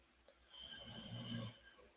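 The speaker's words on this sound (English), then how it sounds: "And it is my dog snoring in the background." A dog snores in the background, a steady low rasping breath that swells to a louder snore near the middle and then fades, heard alone at moderate volume.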